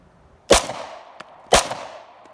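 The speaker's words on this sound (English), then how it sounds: "Let's take a couple shots with this one." Two sharp, loud gunshots from a Glock 19 pistol at an outdoor shooting range, about a second apart, each with a quick decaying echo and a faint click between them.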